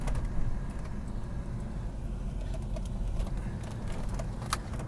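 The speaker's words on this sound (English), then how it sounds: "let's see how that V6 runs" A 1992 Oldsmobile Trofeo V6 engine runs steadily while the car drives, a continuous low rumble with road noise and no talk.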